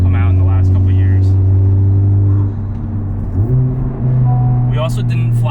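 A Honda Civic Type R FL5 with bolt-on turbo, exhaust and intake, driven gently on the street, its engine holding a steady drone that shifts pitch midway, heard from inside with faint talk at the edges.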